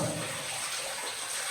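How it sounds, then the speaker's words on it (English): Water drips and trickles continuously inside a limestone cave carrying calcium-rich natural water, a steady close wash of falling water with no talk. "I got water dropping."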